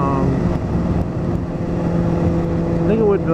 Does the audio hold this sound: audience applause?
no